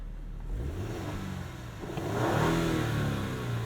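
A 2018 Lexus LS 500 AWD twin-turbo V6 engine revs up from inside the cabin, a smooth rising mechanical tone climbing in pitch then easing, with a low steady hum underneath.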